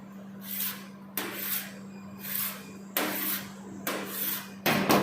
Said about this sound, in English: Take a knife, cut into 7 portions.